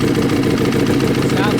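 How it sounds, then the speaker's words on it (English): Ducati 1098 motorcycle engine with a newly replaced clutch idling steadily up close, a continuous low, even rumble filling the short stretch. "Definitely the new clutch sounds a good bit quieter than the old one."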